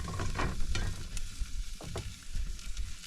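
A ribeye steak sizzles and crackles in a hot pan at a truck campsite, a steady close frying hiss with a few sharper pops and stirring scrapes, no voices.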